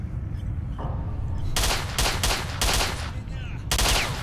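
Gunfire in S.T.A.L.K.E.R.: Shadow of Chernobyl during an underground firefight: loud, close bursts of shots in quick succession over about three seconds, separated by short gaps.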